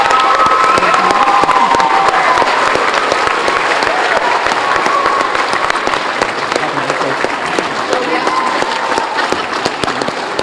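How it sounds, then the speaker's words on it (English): Sustained applause and cheering from a school crowd honoring teachers at a Congdon School Recognition Day, a thick, steady roar of clapping with shouts and children's voices mixed in, holding strong for about ten seconds. "let's give another round of applause for our great"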